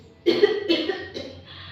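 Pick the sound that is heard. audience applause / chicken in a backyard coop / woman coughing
woman coughing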